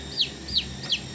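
A Brahma chicken gives three short, high calls at an even pace, each separate and fairly close, over a low steady background hum.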